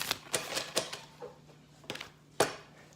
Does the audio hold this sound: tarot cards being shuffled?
yes